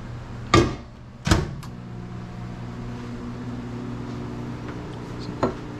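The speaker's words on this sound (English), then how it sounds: "I think I'm going to microwave this again for another 30 seconds." A microwave oven reheats keto fathead dough for garlic knots, giving a steady low hum with a couple of sharp door or button clunks near the start and another near the end.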